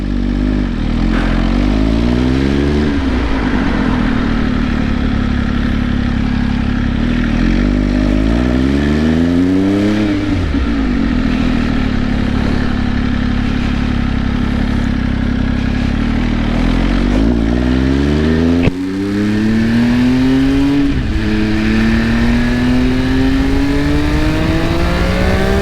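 An MV Agusta F3 motorcycle pulls away in first gear, its engine repeatedly revving up and dropping back, close and loud, then climbing in a long sustained pull toward the end.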